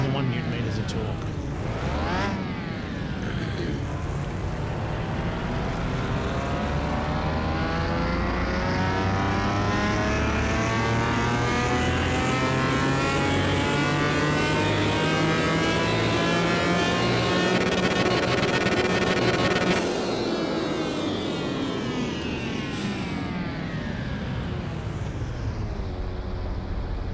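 A 721-horsepower car in Car Mechanic Simulator 2021 revs up on dyno rollers, engine pitch climbing steadily for about twenty seconds in one long loud pull, then dropping off sharply as it winds down.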